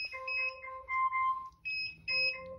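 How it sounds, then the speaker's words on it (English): An Alexa kitchen timer alarm sounds during a tumbler press job, with repeated bursts of bright electronic tones in a melodic pattern separated by short gaps, loud and clear with no talking. "Okay, the timer has gone off"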